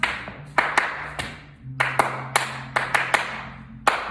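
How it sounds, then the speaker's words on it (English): Sharp flamenco palmas hand claps ring out in a loose rhythmic pattern, some single and some in quick pairs, close and crisp over a low background hum. "That's the clapping, all right? That's what people know as clapping."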